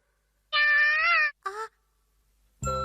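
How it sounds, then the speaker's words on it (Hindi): Cartoon cat meows in an animated show: a long, drawn-out meow, then a short second one, and a third cut off at the end. The calls are clear and close, with no talk over them. "बिल्ली, यहाँ आओ।"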